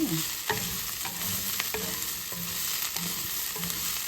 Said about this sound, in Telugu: ఇది రెండు కలిపి మిక్స్ చేసుకుంటూ కొంచెంసేపు ఫ్రై చేస్తే కలుస్తుందండి.